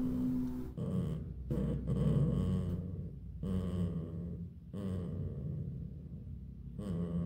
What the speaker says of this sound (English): Marmot growls at the sound.